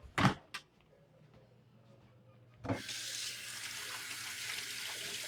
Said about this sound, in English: Wash it off my hands.